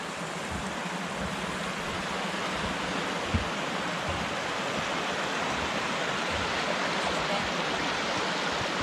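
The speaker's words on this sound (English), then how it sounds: "Nice little waterfall." Small waterfall on Phantom Creek along a forest trail, a dense, even rushing of falling water heard close and continuous, without voices.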